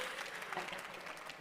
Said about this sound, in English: I think that needs a round of applause.